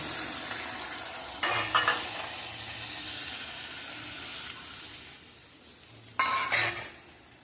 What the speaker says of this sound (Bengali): এবার আমি এখানে উষ্ণ গরম জলগুলো দিয়ে দেবো।